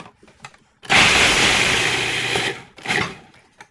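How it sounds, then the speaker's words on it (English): Food processor grinding almonds into flour for a crust, a loud whirring motor burst of about two seconds, then a brief second pulse, close up with no talk. "going to put this right into the food processor and start to mix these together into our crust"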